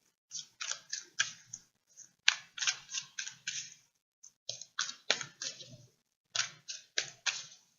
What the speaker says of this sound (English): I'm just gonna give a quick shuffle.